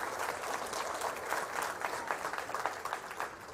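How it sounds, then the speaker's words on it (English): Stadium audience gives a welcoming round of applause at a school attendance program launch, dense even clapping from a large crowd heard at a moderate distance throughout. "So give us a nice welcoming round of applause."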